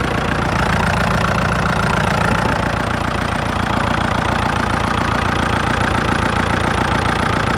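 Used Kubota L4508DI tractor diesel engine revving, a loud, continuous knocking rumble held close and steady for several seconds.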